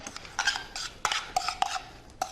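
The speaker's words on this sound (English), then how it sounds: "And then give it all a stir." A spoon or spatula stirs seasoned shrimp in a metal pan, giving a few close, light scraping and clinking strokes in an irregular rhythm.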